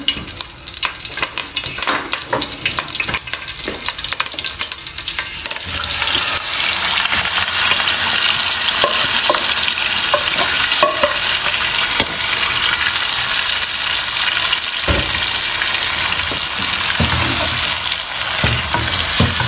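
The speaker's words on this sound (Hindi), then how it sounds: "जैसे कड़ी पत्ता गर्म होगा हम जो है अपना मैरिनेट किया हुआ चिकन ऐड करेंगे इसके अंदर।" Marinated chicken for biryani fries in ghee and oil with hot curry leaves, giving a loud, steady, close-up hiss and crackle that stays dense and continuous throughout, with no voices.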